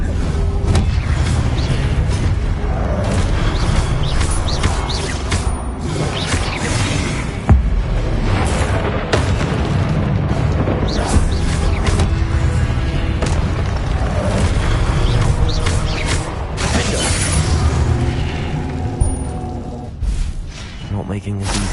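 Confringo blasting spells explode in a video game as a booming, dense barrage of bursts and whooshes over loud, continuous music and effects, while a voice calls out spell names throughout.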